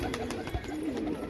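A racing pigeon gives a low, soft coo on a rooftop, quiet and fairly close over a faint steady background.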